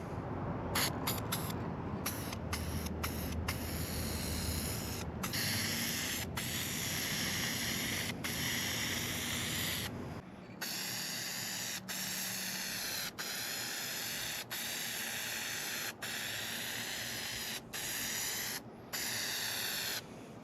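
Short bursts and longer passes of a spray gun lay clear coat on a Saturn Sky roadster, hissing in repeated strokes separated by brief pauses, fairly close and with no talk.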